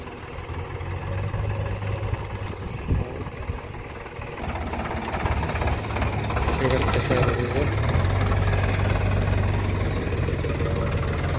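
A farm tractor engine idling and then running with a steady, knocking low rumble that grows a little louder partway through, with people talking over it.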